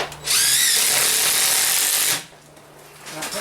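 A power drill drives a long 4.5 inch hex screw through a wooden post into a beam, one loud sustained whirring burst of about two seconds, close up, followed by quieter handling noise.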